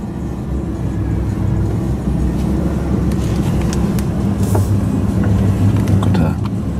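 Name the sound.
Lamborghini Huracan car engine while reversing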